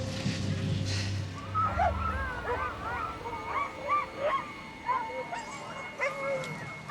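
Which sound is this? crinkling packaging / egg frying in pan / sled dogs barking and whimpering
sled dogs barking and whimpering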